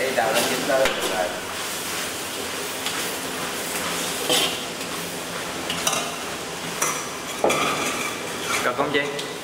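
Beef macaroni tossed in a frying pan, with loud repeated clatter of utensil against pan and a faint sizzle running throughout.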